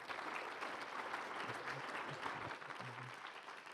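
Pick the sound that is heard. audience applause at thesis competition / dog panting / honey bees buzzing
audience applause at thesis competition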